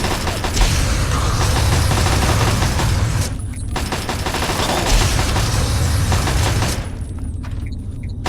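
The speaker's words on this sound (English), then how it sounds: "Firing!" Sustained bursts of gunfire in Fallout 3, a loud, dense fusillade of overlapping shots running almost continuously, with brief lulls near three and seven seconds before the shooting resumes.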